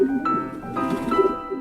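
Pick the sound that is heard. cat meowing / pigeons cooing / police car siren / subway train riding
pigeons cooing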